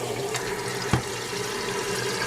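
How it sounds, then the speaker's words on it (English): Cold water runs from a tap into an alkaline water filter pitcher, a steady close splashing stream with one brief knock partway through, no voices. "You put the cold water in,"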